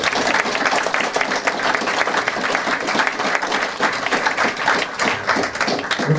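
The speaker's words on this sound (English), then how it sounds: "Let's give him a big round of applause." An audience at a Republican political kickoff event bursts into sustained, dense applause, many hands clapping steadily and loudly for several seconds.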